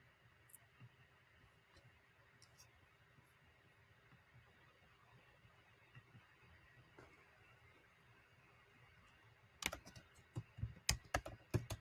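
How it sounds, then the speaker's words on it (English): Computer keyboard clicking under typing, heard over a remote call line: faint, sparse keystrokes over a steady hiss at first, then a loud, quick burst of clustered clicks near the end. "I can hear your computer clicking"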